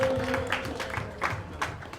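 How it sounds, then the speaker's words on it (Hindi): Scattered audience applause at a Holi celebration and victory festival in Ambujbari, a thin, uneven patter of claps at moderate distance with a faint steady tone underneath. "एक बार जोरदार तालियां बजाएं इनके लिए"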